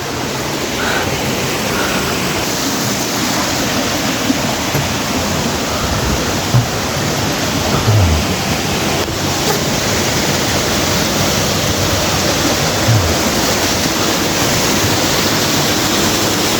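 Steady rushing water from a waterfall stream flows continuously in Percy Scenic Reserve, New Zealand, a broad, even wash of sound with no voices and only occasional small splashes.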